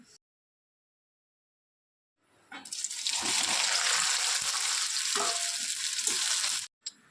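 Soybean chunks frying in a pan with ginger-cumin paste, a loud, steady sizzle that starts abruptly after near silence and runs for about four seconds with faint stirring scrapes, then cuts off.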